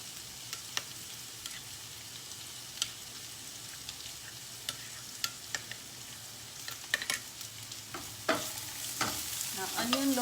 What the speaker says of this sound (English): So I'm just going to give it a mix, the turmeric and red chili into the tomato puree.